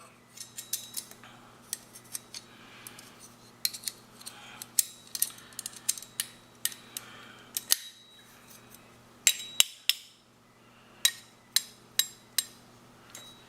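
Metal camp cooking tongs, a spatula and grills clink and clack as they are slid together and nested, producing a series of sharp, close metallic taps and rattles against a quiet background.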